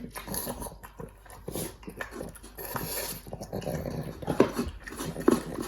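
A dog growls low and close, with wet smacking and chewing noises in between and a few sharper grunts near the end.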